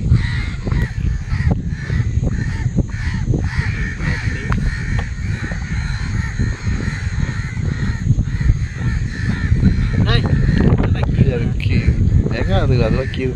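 Crows caw repeatedly and loudly near a fishing net where a large crow is caught, in steady wind noise with people talking over them.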